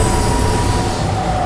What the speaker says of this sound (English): the train should hopefully start coming into the station again